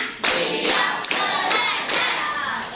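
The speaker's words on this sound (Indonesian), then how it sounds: "Tepuk 1, tepuk 2, tepuk 3, tepuk 4, tepuk 5." Loud claps and slaps from a classroom of students ring out in a quick repeated counted pattern, with roomy reverberation and no talking.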